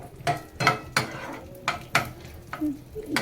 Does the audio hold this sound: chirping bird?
no